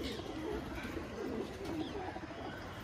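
A pair of well-bred Kalshila flying pigeons coo near at hand, low rolling coos repeating steadily through a few seconds with no talk over them.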